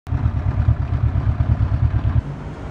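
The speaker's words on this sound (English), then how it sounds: "Cool thing about a motorcycle." A motorcycle rides along close by, its engine putting out a pulsing, throbbing note that eases off near the end, with no voices.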